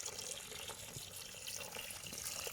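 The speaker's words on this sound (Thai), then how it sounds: "ฟ้ามาเล่นน้ำนะคะ" Tap water runs and splashes continuously in a low, faint wash, with small drips and spatters mixed in. No voices are heard.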